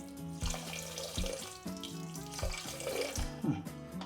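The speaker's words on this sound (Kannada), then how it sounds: "ಈಗ ಸಕ್ಕರೆ ಮುಳುಗಬೇಕು, ಅಷ್ಟೇ ನೀರು ಹಾಕೊಳ್ತೀನಿ" Water runs steadily from a tap into a pot of sugar, a continuous splashing stream with soft knocks and shifts in pitch as it fills.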